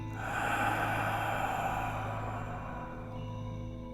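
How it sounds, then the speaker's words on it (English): A long, deep breath out during a guided breathing exercise, a steady airy rush that swells early and slowly tapers over several seconds, heard up close with a low background hum and no talking. "And exhale."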